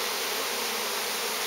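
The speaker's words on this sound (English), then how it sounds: "the bees just started going that way" A swarm of Italian honey bees streams into a hive on a bee farm, making a steady, quiet, dense buzzing hum throughout with no voices.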